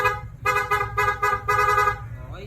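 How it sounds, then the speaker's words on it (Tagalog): A loud motorcycle dual horn with a PIA rapid horn setup blares in a rapid series of short, stuttering blasts, then holds briefly before cutting off. "dual horn setup, PIA horn with rapid horn setup"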